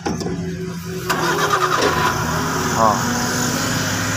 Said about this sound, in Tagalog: Try natin pandarin dul at makinig pakinggan niyo ang andar dul